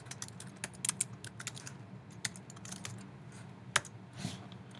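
Quiet, uneven clicking of keys on a computer keyboard as a name is typed, short bursts of taps with brief pauses between them, close and soft with no speech.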